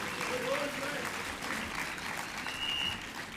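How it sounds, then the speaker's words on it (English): A provincial political party congress crowd applauds steadily, a dense sustained wash of clapping filling the hall, with faint voices and a brief whistle-like tone over it. "it deserves a round of applause for the work that is put in"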